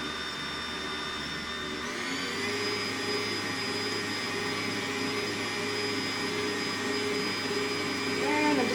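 Electric mixer beating brownie batter with flour in a bowl, a continuous steady whirring motor drone that shifts pitch slightly partway through, close and fairly loud, no talk.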